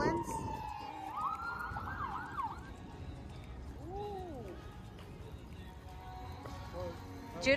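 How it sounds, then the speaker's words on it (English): An ambulance siren wails, sweeping up and down in the distance at a state fair, brief and fading, under ongoing conversation. "The ambulance?"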